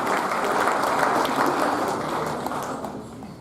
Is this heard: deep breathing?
no